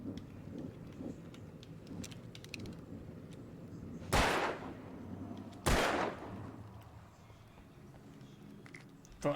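Two sharp, loud gunshots in Alan Wake Remastered on PS5, spaced about a second and a half apart and standing out over a low rumbling ambient background.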